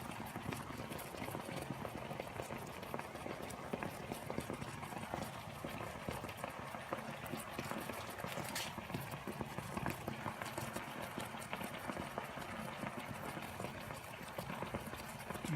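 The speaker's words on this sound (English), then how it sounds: "water's boiling away." Steady rolling bubbling of water boiling in a pot during parkerizing, continuous and close, with no voices.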